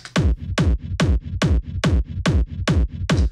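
Punchy kick drum hits paired with a kick gate in a steady, driving pattern, each thump followed by a short gated burst, repeating about every third of a second.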